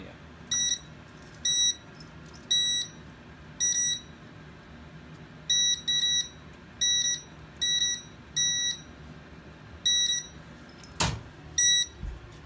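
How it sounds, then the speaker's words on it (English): A smoke detector on a newly installed alarm system sounds repeated short, shrill beeps in clustered pulses over a low background hum during a system test, with one loud thump near the end. "I'm going to restart by starting off with this smoke detector. It's going to pulse 6 times."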